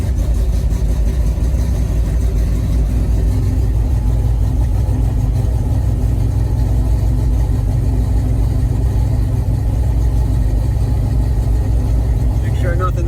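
1980 Chevrolet Camaro engine running steadily at idle, a loud, continuous low rumble up close throughout.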